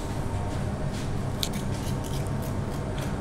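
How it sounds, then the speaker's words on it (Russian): Scissors cutting through the tough skin of a two-kilogram sturgeon during butchering, a quiet series of crisp snips and clicks over low background noise. "Разрезается ножницами,"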